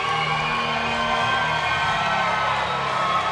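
A wrestling arena crowd roars steadily at a live match event, a dense, sustained wash of cheering and shouting with no clear breaks across the few seconds.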